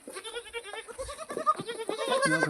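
Several goats bleat close by, their wavering cries overlapping continuously and growing louder toward the end.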